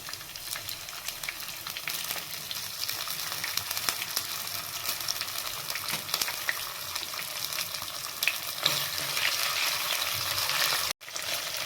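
Ginger paste fries in a pan for a boti curry, a continuous close crackling sizzle with occasional stirring clinks and a brief sharp cut near the end.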